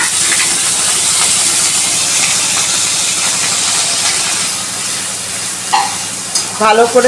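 Ground ginger, cumin, coriander, cashew, coconut and dried chilli pastes fry in hot oil in a pan, a loud continuous sizzle and hiss with stirring scrapes near the end and a brief voice.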